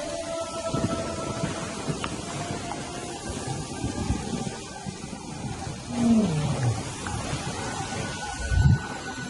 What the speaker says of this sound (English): An unfamiliar roar. Nomads from upriver.